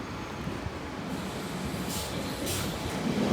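An LNER train from York to London King's Cross running through Doncaster station, a steady rumbling roll of a passing train with a faint brake hiss, continuous and fairly close.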